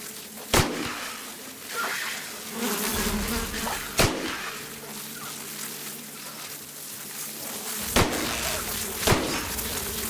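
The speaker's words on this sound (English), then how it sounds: "I'm using a gun to fight a swarm of bees." A swarm of insects drones and buzzes continuously in The Outer Worlds video game, punctuated by several sharp gunshot-like thwacks at irregular intervals, with the buzz loud and close throughout.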